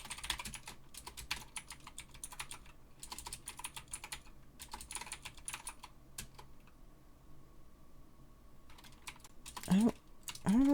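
Rapid computer keyboard typing in bursts of clicks with short pauses, close and fairly quiet, ending with a brief rising electronic tone.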